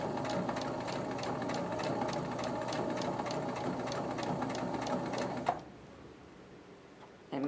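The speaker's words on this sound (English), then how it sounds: "And you do want to sew through the middle so that you hold it down." Sewing machine stitching steadily through the middle of a 7th grade project piece, a fast even mechanical rattle running continuously for about five and a half seconds before it stops, leaving quiet room tone.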